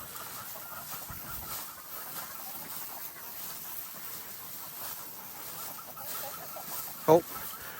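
Soft, scattered chicken clucks over a low outdoor background, with one sharper squawk near the end.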